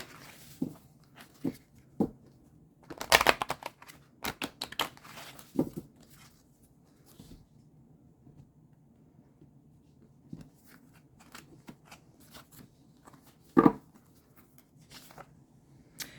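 Soft, sporadic papery rustles and brief snaps from cards being handled and shuffled close by, with quiet pauses between the bursts.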